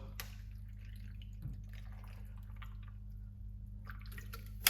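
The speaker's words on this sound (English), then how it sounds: "We're gonna put a little bit of water." Water is poured into a homemade pineapple, ginger and turmeric juice seasoned with black pepper, giving a faint, soft trickle and drip over a steady low hum in a quiet kitchen.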